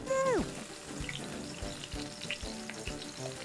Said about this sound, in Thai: ขั้นตอนสุดท้ายบอกงี้ให้เพื่อนๆเอาเทน้ำมันออกให้หมด